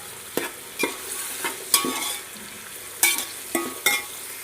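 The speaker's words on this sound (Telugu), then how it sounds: "వెజిటేబుల్స్ కూడా బాగా ఎగుతున్నాయండి" Vegetables for vegetable rice stir-fry in a pan, with a constant sizzle broken by about eight sharp scraping, clanking strokes of the spatula at uneven intervals, close and fairly loud.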